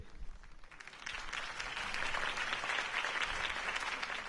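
A crowd's applause in Batman: The Telltale Series swells after a quiet second and holds as dense, sustained clapping, moderately loud.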